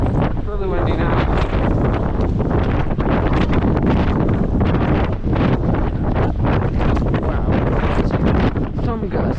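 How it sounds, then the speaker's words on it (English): Strong wind gusts roar and buffet the microphone continuously on snowy Rubicon Peak during a snowstorm, loud and unbroken throughout. "It's really windy now."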